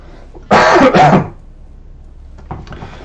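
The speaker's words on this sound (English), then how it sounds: "So now I'm just about to cough." A man coughs twice in quick succession, loud and close to the microphone, while recording himself playing a PC game. A soft sound follows about a second later.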